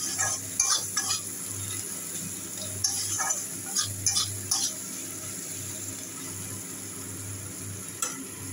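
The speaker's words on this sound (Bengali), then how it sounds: "পেঁয়াজটাকে ভালো করে ভেজে নেব।" Onions fry in oil in a kadai that has just been used for potatoes. A steady sizzle runs underneath while a spoon stirs and scrapes, giving several sharp clinks and scrapes in irregular bursts.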